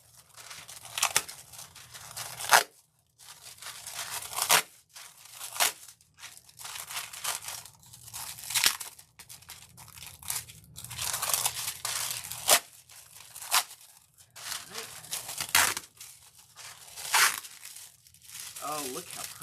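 Foil is peeled off a satin box in bursts of crinkling and tearing, loud close rustles separated by brief quiet gaps, with a person talking at intervals between the peels.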